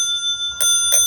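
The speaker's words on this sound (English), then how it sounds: "I got that cool bell." A vintage Victorian-style steampunk bicycle bell rings twice in bright, close metallic dings about a third of a second apart, with a thin ringing tone lingering between strikes.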